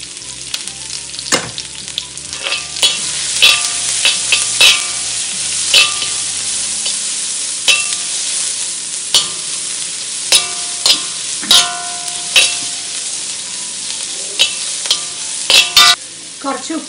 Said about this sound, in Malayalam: ഇതിലേക്ക് ഞാനൊരു സവോള നീളനരിഞ്ഞതും ചേർത്ത് കൊടുക്കുകയാണ്.